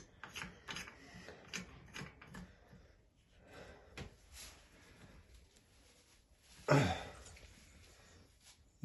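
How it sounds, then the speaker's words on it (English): Quiet metallic clicks and ratcheting scrapes come from a spanner tightening a push-button basin waste fitting under a sink, with one sharper clank partway through. "Just tighten it a little bit with a spanner and put this top back on."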